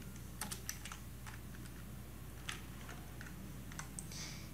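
A URL being typed on a computer keyboard, a quick irregular run of crisp key clicks in small clusters over a faint steady hum, close and fairly quiet.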